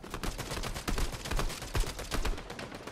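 Rapid, dense automatic gunfire from a competitive duo shooter video game, loud continuous bursts of overlapping shots without a break for the whole stretch.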